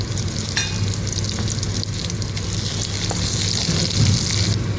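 Green chillies, garlic cloves and cumin seeds frying in oil in a pan, a close, steady sizzle with scattered pops and crackles and occasional stirring scrapes, no talking.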